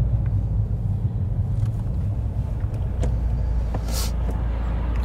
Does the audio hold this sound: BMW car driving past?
yes